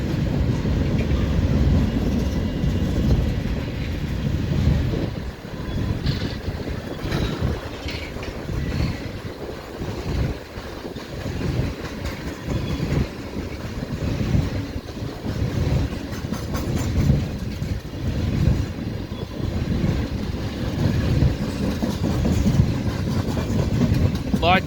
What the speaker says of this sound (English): There's like tons of tankers on this train